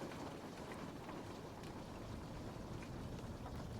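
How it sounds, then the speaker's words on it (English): Steady rain falls outside a window, a dense, even hiss of drops that runs without pause at a fairly loud level, with no voices over it. "So we can still hear the rain."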